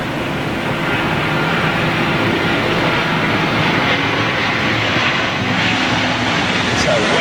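An aircraft arriving on the southern runway at LAX produces a steady, broad jet engine roar that stays loud and fairly close throughout, with no voices over it.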